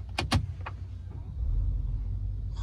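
A Lamborghini's engine restarts automatically through its start-stop system. A few faint clicks come first, then a low, muffled rumble swells up and holds, heard quietly from inside the car.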